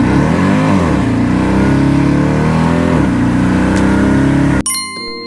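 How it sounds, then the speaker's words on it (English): A 700 HP Jaguar super sedan roars loudly as it takes off, its engine pitch climbing steadily through hard acceleration before cutting off abruptly near the end. "he just had to hear this car take off"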